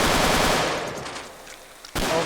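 Sustained heavy machine gun fire in the video game RMC-14, a dense continuous roar that fades and thins before a fresh loud burst cuts back in near the end.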